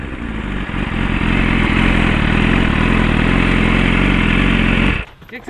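A BMW S1000 motorcycle engine roars loud and close, building to a sustained high-revving blare for about four seconds before cutting off abruptly into near silence.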